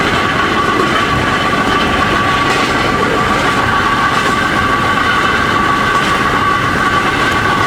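A narrow-gauge railway train runs along the Avnyuga line past open fields, giving a steady, continuous rumble of wheels on track with faint clacking. It stays loud and close the whole time, with no voices.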